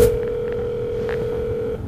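Mobile phone dialing a call, giving a steady continuous tone with a few faint blips, heard close and alone for about two seconds before it cuts off.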